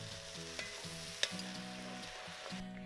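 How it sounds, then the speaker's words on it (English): White wine goes into toasted risotto rice in a pan and sizzles softly, a quiet steady hiss with light stirring and one small clink, close and without talk. "now I'm gonna add in my white wine"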